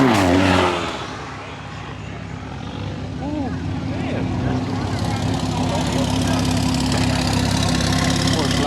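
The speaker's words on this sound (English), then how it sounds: "Porsche 911 Turbo S started up" A Porsche 911 Turbo S fires up in a parking lot with a sharp burst, then settles into a steady, throaty idle, with people talking close by.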